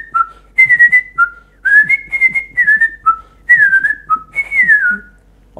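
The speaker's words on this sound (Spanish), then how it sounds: "Ojalá pudiese yo silbar como silbaba el zorro" A clear, loud melodic whistle carries a tune in rising and falling phrases, with short pauses between lines and no voices.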